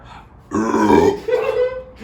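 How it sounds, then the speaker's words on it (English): A single long, rumbling burp, loud and close, rolling on for over a second with a second gurgling swell before it fades. "You get a point for that burp."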